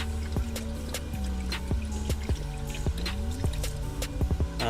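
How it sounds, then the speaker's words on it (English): Red Line Water Wetter coolant additive poured into the cooling system of a Nissan 350Z during an aluminium radiator install, a steady trickling pour with scattered drips running throughout, close and moderately loud. "I'm going to dump in this red line water wetter"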